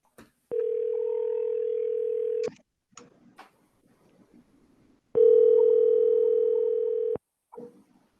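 Two steady telephone dial tones, each about two seconds long, separated by faint clicks and brief rustling while a call is placed, loud and close with no talking.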